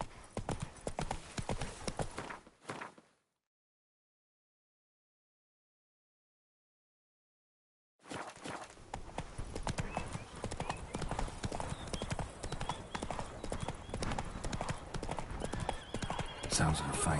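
Hooves of the horse Roach in The Witcher 3 clip-clop in a steady galloping rhythm, loud and close, cutting out for several seconds of silence before resuming with game ambience and a whinny; a voice speaks briefly.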